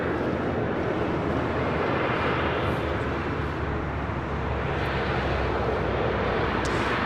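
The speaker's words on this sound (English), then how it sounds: "Japan Airlines Flight 60 coming up from Osaka, 787-9 Dreamliner." A Japan Airlines Boeing 787-9 Dreamliner arriving at LAX gives a continuous loud engine roar and rushing air noise, steady from start to finish with no talking.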